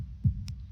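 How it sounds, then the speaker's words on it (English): A single soft, low heartbeat thump from the Katawa Shoujo visual novel lands alone against a quiet low hum, followed by a brief faint higher tone. "Heartbeats."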